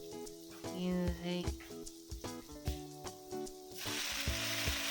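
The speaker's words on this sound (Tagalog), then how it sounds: "Meron lang akong carrots sa rep, kaya nilagay ko na rin kaysa naman masira. And so medyo i-fry lang natin siya" Carrots fry in a pan with a steady, close sizzle and crackle, punctuated by occasional scraping and stirring clatter, with no talking.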